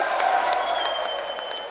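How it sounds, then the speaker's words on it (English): Members of Congress applaud in the House chamber as the President is introduced for the State of the Union, a steady, modest wash of clapping from a large room with no cheering or talk on top. "their applause is not that impressive either"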